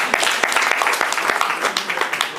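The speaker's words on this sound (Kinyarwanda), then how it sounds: "mwamubera amashyi" Short burst of audience applause at a poetry awards event, a modest group clapping in quick, uneven slaps, close and fairly light.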